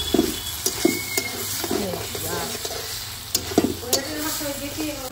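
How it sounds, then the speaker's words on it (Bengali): Curry being stir-fried in oil with a splash of water in a pot on a clay stove, a steady sizzle with scraping stirs and occasional sharp knocks, birds faintly in the background and a voice talking at times. "একটু জল দিয়ে আবার কষে এলাম, বেশি একটু তেল দিছি না তো।"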